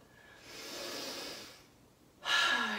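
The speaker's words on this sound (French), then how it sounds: "Je respire." Slow, deliberate yoga breaths drawn through the nose and released, one soft airy inhale swelling and fading, then a sharper, louder exhale near the end, close to the microphone in a quiet room.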